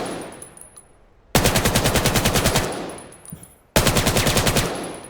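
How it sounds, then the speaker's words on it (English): AK-12 assault rifle in the video game Weapons of Vail fires two rapid automatic bursts of about ten shots each, loud and close, each burst followed by a short echoing tail and a quiet pause. "AK-12, which is one of the best ARs in the game."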